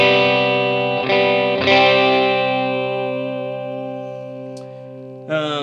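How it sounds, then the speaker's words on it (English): Electric guitar through a transparent overdrive pedal used as a second gain stage on an ambient worship pedalboard: two strummed chords ring out loud and slightly gritty, sustaining with a long, smooth decay before a brief scrape at the end. "It's a transparent overdrive, which means it doesn't add a lot of color, and so it really just makes my signal louder and dirtier"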